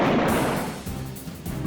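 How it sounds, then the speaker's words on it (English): A single loud gunshot from a gun in Rust cracks close by, then decays into a rumbling echo over about a second. "Let's kill him with a gun."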